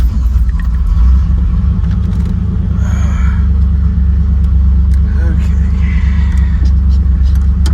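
A 1988 Camaro with an L98 V8 and a swapped-in five-speed manual pulls away, its deep engine rumble steady and loud throughout, with little distinct revving.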